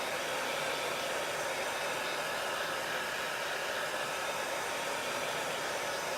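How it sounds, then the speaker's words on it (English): A hair dryer blows with a steady, unbroken roar of rushing air, loud and close, without any voices. "I'm just going to use my hair dryer"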